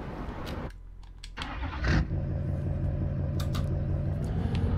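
Old Ford truck engine in Farming Simulator 19 cranking and catching, then settling into a steady low rumbling idle, loud and close with no talk.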